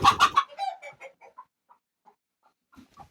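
Young broody laying hens sitting on nests give a few close, loud clucks up front, then soft, scattered low clucks and murmurs trailing off into near silence.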